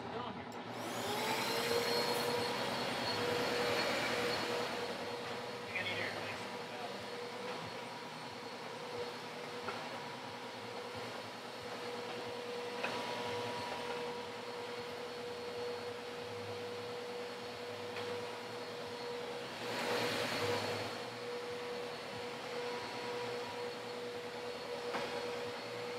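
A Eureka Altima vacuum cleaner running in a shop: a steady, loud motor whine with an airy rush that holds throughout and swells briefly near the start and toward the end.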